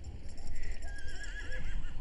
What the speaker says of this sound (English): It looks just like an ordinary horse.